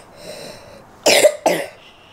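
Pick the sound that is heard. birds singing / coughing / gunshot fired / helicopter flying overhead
coughing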